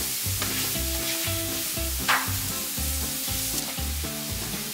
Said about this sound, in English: Lagyan na rin natin ng oil. Lagay na natin ang onion. Tapos garlic.